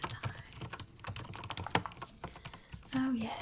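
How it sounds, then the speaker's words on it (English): Quick, uneven keystrokes clatter on a computer keyboard, close and fairly soft, with a few brief vocal sounds mixed in. "just need to type away for a moment"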